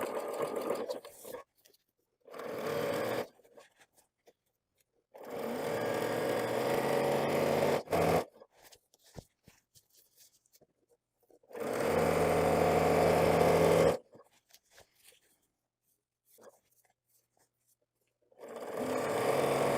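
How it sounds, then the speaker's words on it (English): A longarm quilting machine stitches along the folded edge of a fabric zipper leader, whirring in several separate runs of a few seconds each, with quiet pauses between them. "I'll stitch along this edge."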